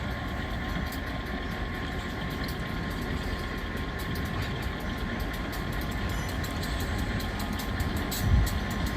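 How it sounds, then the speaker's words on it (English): Steady low rumble of a model railroad yard engine idling and working as it pushes cars, with faint metallic rail clatter and a brief thump near the end, no talking. "Yard engine's now pushing the cars down to what I believe is an outbound track."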